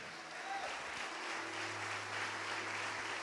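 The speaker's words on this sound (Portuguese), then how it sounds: "vamos aplaudir mais, igreja" Church congregation applauding during a worship service, a steady, moderately faint wash of many hands clapping, with a low sustained instrumental tone underneath and no clear speech.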